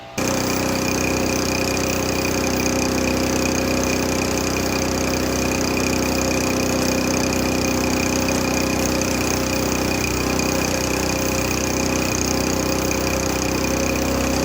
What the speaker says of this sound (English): It's a low horsepower, smaller engine, so it's not gonna suck up as much or as fast.